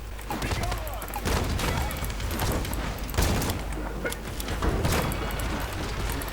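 Rapid gunfire from the online shooter video game Paladins, dense bursts of shots and impacts crackling steadily throughout, loud and close, mixed with game effects.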